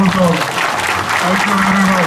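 An audience at a TRS party joining event in Jagtial claps in a brief burst of applause, with a voice talking over it.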